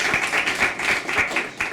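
Brief applause at a school board meeting for a staff member, a short burst of several hands clapping in a room, fairly close.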